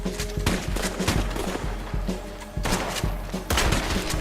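Gunfire in the video game Red Dead Redemption 2 during a PvP match: rapid, overlapping shots and thuds in a busy fusillade, fairly loud and sustained, with no voices.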